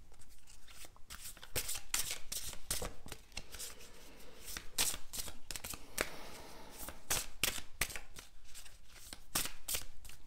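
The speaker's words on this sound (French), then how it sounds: "ils me disent que je dois encore tirer une carte" Oracle cards being drawn and shuffled, a steady run of crisp riffling and slapping card sounds close to the microphone with no talking.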